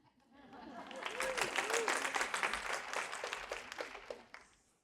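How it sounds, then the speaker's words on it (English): Audience applause in a room during an early-learning equity talk, a dense wash of clapping that swells, holds for several seconds, then fades, with a few voices and whoops mixed in. "That's the part where we all applaud because we're excited."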